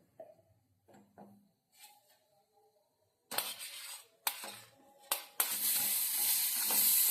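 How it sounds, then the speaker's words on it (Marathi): Strawberries roasting in a pan, quiet handling and faint clinks at first, then sudden bursts of loud sizzling that swell into a steady, close crackle. "त्याच पद्धतीने आपण स्ट्रॉबेरी आपण भाजून घ्यायच्या आहेत"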